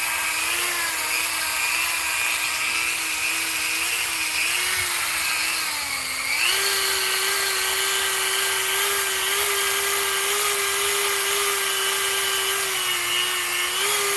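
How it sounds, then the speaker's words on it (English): A Dremel rotary tool runs with a continuous whining drone. Its pitch dips and then jumps up partway through, and it holds steady and loud at the new speed with no voices. "My Dremel sounds funny though."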